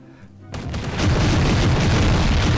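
Explosions from bombing a city in the video game Garry's Mod: a sharp boom strikes after a quiet start, then rolls into a loud, continuous rumbling blast sound that fills the rest of the clip.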